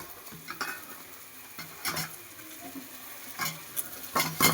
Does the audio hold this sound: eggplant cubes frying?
yes